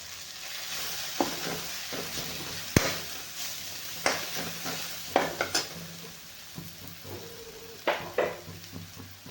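Dal and onion vegetable being sautéed with turmeric, red masala and garam masala in a pan: a low sizzle under repeated sharp spoon scrapes and clinks against the vessel, close and irregular, no speech.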